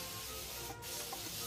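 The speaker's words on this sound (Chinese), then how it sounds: "看这喷出的都是雾状。" A spray bottle releases a continuous soft hiss of fine mist, steady and close, with no talking.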